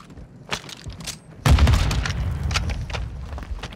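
An airstrike explosion in Call of Duty Warzone lands as a sudden loud, deep boom that rolls into a sustained rumbling roar with crackling debris, preceded by a few faint sharp pops.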